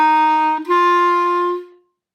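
A clarinet plays short sustained beginner-lesson notes, clear and alone, with a brief break between tones before the last note fades out.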